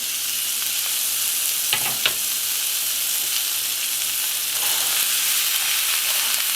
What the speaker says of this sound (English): We're just gonna brown the meat.